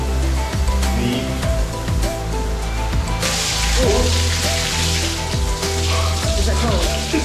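Waterfall shower in the Rainforest Room aboard the Disney Dream cruise ship, a steady broadband rush of falling water close by, with people talking over it.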